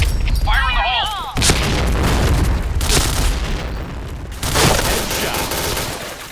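Grenade explosions and gunfire in a shooting video game on the Sandstorm map, repeated heavy booms and crackling bursts of shots, loud and dense, with a brief voice at the start.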